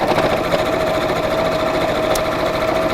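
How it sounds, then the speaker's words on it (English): Sewing machine running steadily close to the fabric edge as a bag is stitched, a continuous near whir with a constant hum throughout, no talk. "I'm going to sew quite close to the edge just to hold that in place"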